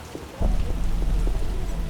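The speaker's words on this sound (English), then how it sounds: "This rain needs to let the hell up." Steady heavy rain with a low rumble of thunder rolling in, dense and close, no voices, in the game The Witcher: Enhanced Edition.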